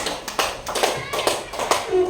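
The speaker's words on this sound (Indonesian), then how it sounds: "ya oke, tepuk tangan" Children clapping in a classroom during a religion lesson, a handful of sharp separate claps landing in a loose rhythm, close by, with a voice audible alongside.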